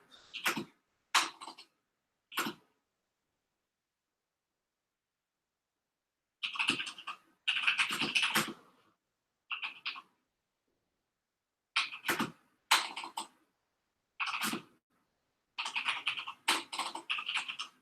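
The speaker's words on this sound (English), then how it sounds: "Now I'm typing softer so that people don't make fun of me." Someone types on a Corsair computer keyboard, producing close, crisp bursts of rapid keystrokes separated by short silent pauses, with no voices.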